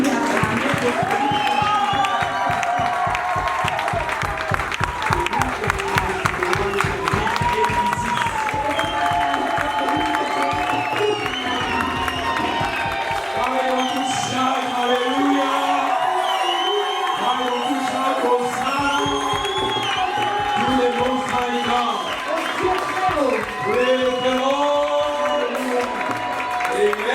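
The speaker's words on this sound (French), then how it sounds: "Can you clap hands for the one who can change your situation?" A church congregation claps hands in a steady, sustained round of applause with cheers and whoops, while a preacher keeps speaking over the crowd.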